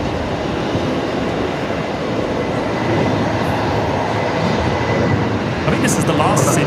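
A QantasLink airliner departing Brisbane Airport for Sydney gives off a loud, steady jet-engine roar that rumbles continuously and fills the whole stretch at close range.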